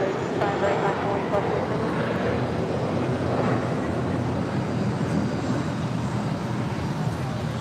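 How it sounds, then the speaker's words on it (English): An American Airlines Airbus A321 jet departs, a steady broadband engine roar holding evenly loud and unbroken throughout, with no voices over it. "That was American Airlines 1994 departing to Dallas Fort Worth on an A321."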